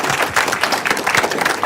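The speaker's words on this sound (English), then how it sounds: "Round of applause, please." Audience clapping at a science award ceremony: a brief, dense burst of steady applause from many hands, loud and close throughout.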